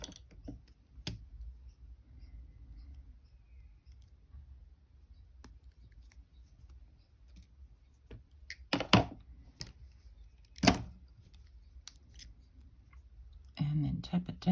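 Pliers or cutters snip through fine jewelry wire on a wire-wrapped Möbius connector link, giving a few sharp, quiet clicks and snips spaced apart over near silence, with low handling noise and brief speech around them.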